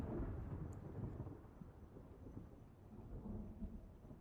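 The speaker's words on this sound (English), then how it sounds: "Do we want to just sit and listen to the thunder in the background?" Low thunder rumbles in the background of a storm with light rain, a faint, distant rolling growl that swells and fades over a few seconds, with no voices.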